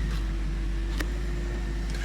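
A BMW 650i E64 V8 sits idling after a cold-start fault at about 94,000 miles, a steady low engine drone with a faint whine and no voices, brief and even throughout.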